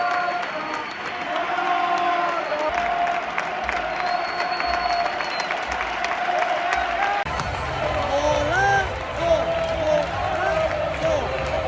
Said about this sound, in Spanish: Aplausos para Morata